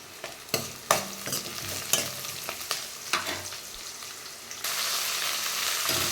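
Onion, green chili and crushed garlic fry in sesame oil with mustard seeds and fenugreek, giving a crackling sizzle punctuated by sharp spatula scrapes and taps, then a louder, steadier hiss toward the end.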